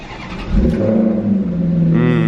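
A Maserati's 4.7-liter naturally aspirated Italian V8 on stock exhaust fires up from cold in sport mode with valves open, a deep close rumble that settles into a steady idle before the revs climb near the end.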